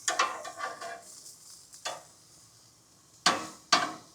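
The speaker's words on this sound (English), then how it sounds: "It's time to take these bad boys with the briquettes, flip them around so they don't burn." Food is flipped on a Weber EP 425 gas grill fitted with briquettes: sharp metal spatula scrapes and clanks against the grate, spaced out irregularly, with soft sizzling underneath between the louder hits.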